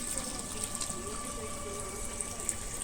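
Water runs steadily from a tap in a banana plantation, a continuous close hiss of flow with no breaks, while voices murmur faintly underneath.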